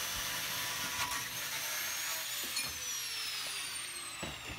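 A hand hacksaw cuts through a forged steel handle in a backyard smithing setup, rasping in steady back-and-forth strokes about once a second, fairly close and fairly quiet, with no talking.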